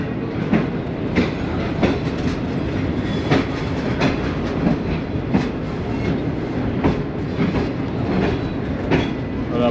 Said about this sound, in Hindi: और अब आप देख रहे हैं कि ट्रेन भी जा रही है